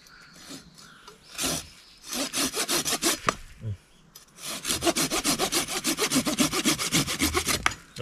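A Japanese pull saw from an NS-180 set with a nata hatchet rasps through wood in quick, even back-and-forth strokes, a short burst first and then a long steady run of close, loud cuts.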